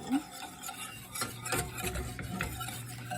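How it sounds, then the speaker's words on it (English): Ingredients being whisked in a pot on the stove over medium heat, quiet scraping and clinking of the whisk against the metal in repeated irregular strokes, with faint sizzling underneath and no talking. "all the ingredients over medium heat and whisk until it comes to a boil"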